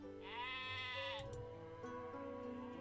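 A sheep in the video game Heartbaked lets out a long, wavering bleat, then several shorter, lower bleats, close and clear with no voices over them.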